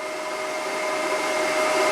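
High-pressure air rushes out of a PCP compressor hose on a GX CS3 diving and paintball compressor, a loud, close, continuous hiss that holds steady and swells slightly toward the end.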